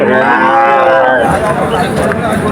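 Cattle low loudly and close at a calf and cow market in Chuknagar, one long drawn-out moo with rich harmonics, followed by a noisy crowd-and-animal background.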